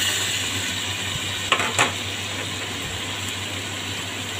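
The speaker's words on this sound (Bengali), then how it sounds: "এখন আমি চালটা দিয়ে দিলাম" Rice goes into a pot of fried spice paste for bhuna khichuri, a steady close sizzle broken by a couple of short rattling clicks as the grains land.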